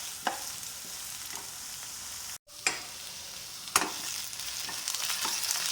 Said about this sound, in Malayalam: വഴുതനങ്ങ ഇവിടെ ഞാൻ പാനിൽ വെളിച്ചെണ്ണ ഒഴിച്ചിട്ട് അതിലേക്ക് ഇട്ട് കൊടുത്തിട്ടുണ്ട്